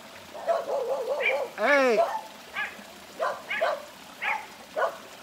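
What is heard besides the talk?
dogs barking at a dog on the road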